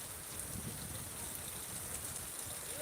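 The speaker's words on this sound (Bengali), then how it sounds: "বৃষ্টিও আস্তে আস্তে থেমে গেতেছে" Light rain easing off after a long dry year, a faint even patter and hiss of drops with no voices.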